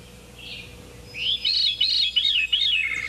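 Hermit thrush singing in northern spruce forest, its rufous-tailed song given as one faint opening note followed by a clear rising and looping phrase of fluting notes, alone against a quiet background.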